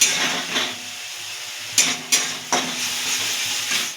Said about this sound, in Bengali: দিয়ে দেবো একটু হলুদ, দিয়ে আমরা একটু নাড়াচাড়া দেবো।